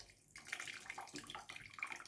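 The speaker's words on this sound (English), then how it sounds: "you can then pour it from a sieve into your jug" Red cabbage liquid is poured through a sieve into a jug, giving a close, uneven trickle and splash that swells and eases in short surges, with no talking.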